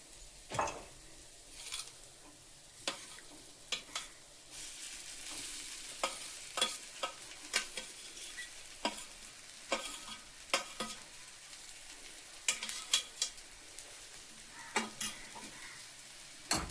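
Turmeric and ground peas frying in a pan for matar pattice, a soft steady sizzle under repeated spatula scrapes and taps, close and quiet.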